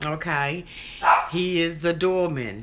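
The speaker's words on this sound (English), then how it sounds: "So that's the dog. He's barking." Someone talks while a dog barks in short, close, loud bursts.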